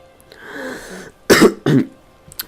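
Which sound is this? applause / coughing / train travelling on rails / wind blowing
coughing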